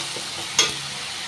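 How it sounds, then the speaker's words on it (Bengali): Ginger, garlic and onion sautéing for fish curry, a soft steady sizzle with one brief stir or scrape in the middle. "এই মাছটাতে না একটুখানি আদা রসুন আর পেঁয়াজটা একটু বেশি লাগে। ভালো করে একটুখানি কষিয়ে নিচ্ছি,"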